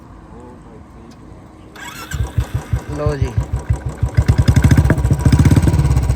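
A Bullet motorcycle engine cranks and catches, then settles into a loud, close, steady thumping idle that grows firmer. Someone speaks briefly just before it starts.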